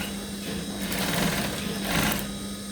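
A sewing machine stitches a shirt blouse with a fast, steady mechanical whirr and needle chatter that swells briefly twice, heard close and fairly quiet with no talk.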